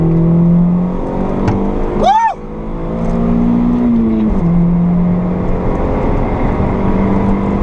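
A Honda Civic ED7 on the Fontenay-le-Comte race circuit, its engine note held and rising under acceleration, with a brief sharp whine sweeping up mid-run; people talk over it from inside the car.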